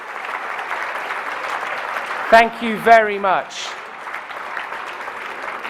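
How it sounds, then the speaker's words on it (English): Sustained audience applause fills a charity gala hall, steady and moderately loud throughout, with a brief spoken thank-you from a man rising over it midway before the clapping carries on. "And a round of applause."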